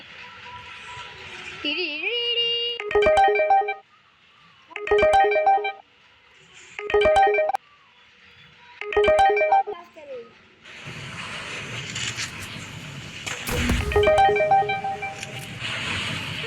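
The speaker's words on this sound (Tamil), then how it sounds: "மெசேஜ் வந்துக்கிட்டே இருக்கு." Repeated phone notification chimes from a mobile during a Free Fire gaming session, four short tonal bursts in a row followed by another later, sounding close and loud between stretches of talking and background noise.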